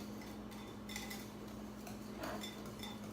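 Cutlery clinks faintly against a plate while cinnamon is stirred into a dish, a couple of soft scrapes and taps under a low steady hum.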